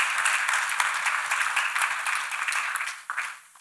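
A church congregation claps their hands in praise, a lively roomful of crisp overlapping claps that gradually thins out, with a brief dip and a final few claps at the end.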